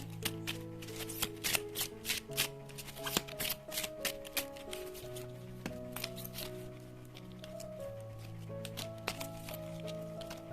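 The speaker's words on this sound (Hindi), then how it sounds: "तो शुरुआत करते हैं शफल करके।" Tarot and oracle cards being shuffled by hand, giving repeated crisp riffling bursts and soft flicks that sit under steady background music throughout.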